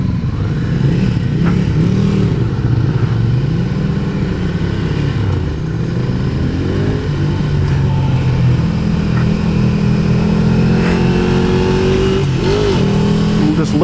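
A 2015 Ducati Scrambler motorcycle engine runs loud and steady close by, with its pitch rising and falling as it revs and accelerates throughout.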